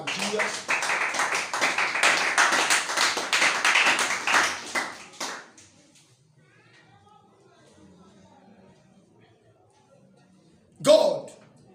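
A church congregation claps together for Jesus in steady, rapid unison for about five seconds, then falls quiet, followed by one brief loud burst later.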